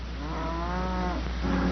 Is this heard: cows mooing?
yes